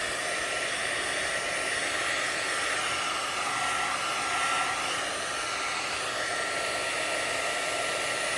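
A craft heat gun blows steadily over the back of a handmade card, a continuous close, even whooshing roar of hot air that holds for several seconds with no pauses and no voices.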